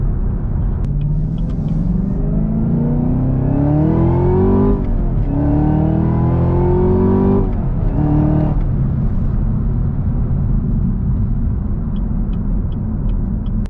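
Chevrolet Camaro ZL1 engine revving hard through repeated gear pulls on a backroad, rising whines broken by brief shifts, loud and close from inside the car with no talking.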